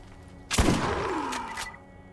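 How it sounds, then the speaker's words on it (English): A single shotgun blast in the video game Borderlands, a sudden loud boom followed by a decaying ringing tail, alone with no talk. "Yep, that is a pretty good shotgun right there."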